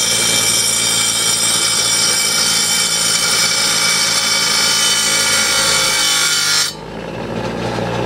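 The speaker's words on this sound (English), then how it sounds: "you just grind that down so it's sharp" A bench grinder grinds steadily against a steel lawnmower blade being sharpened, a loud continuous rasping whir that holds for about seven seconds, then the contact stops and only a softer motor hum remains.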